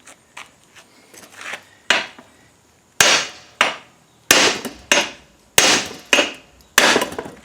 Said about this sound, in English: I don't have a very big hammer.